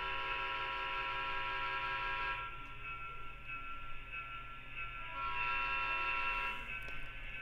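A steady, sustained whistle tone from a model train rings out over a constant mechanical hum, easing off briefly midway before returning.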